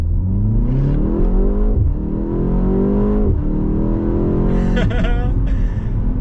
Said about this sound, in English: Look at this, full throttle, let's go.